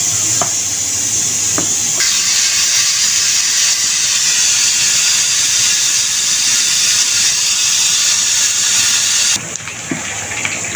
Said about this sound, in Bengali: ডিমগুলোকে আমি ভেজে নেব।